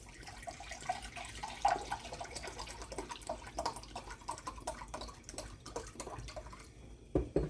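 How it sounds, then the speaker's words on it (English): Organic unfiltered vinegar pours into a container for pickled onions, a faint, quiet trickle with small splashes and drips that runs throughout. "Okay, so pour in the 2 cups of vinegar."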